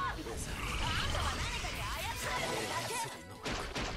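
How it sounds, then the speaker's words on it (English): Frogs croaking in the video game Jojo's Bizarre Adventure: Eyes of Heaven, a busy stretch of warbling calls layered with game effects and some voice, steady and fairly loud throughout. "Oh, wait, no, that's the frogs."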